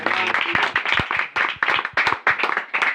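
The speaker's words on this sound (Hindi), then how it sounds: "अच्छा, अंकल के लिए जोरदार ताली।" An audience claps with a burst of sharp, dense hand claps, close and loud, over a lecture setting.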